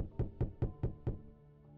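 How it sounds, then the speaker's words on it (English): Five evenly spaced knocks on a door in the video game Night of the Consumers, sharp and fairly close, followed by a quiet pause. "who was knocking at my door?"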